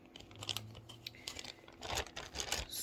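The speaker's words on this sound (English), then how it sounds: "we got another plastic bag empty, and I'm not going to use it" An empty plastic bag being handled gives soft, irregular crinkles and rustles in short bursts, close and fairly quiet, with no voices.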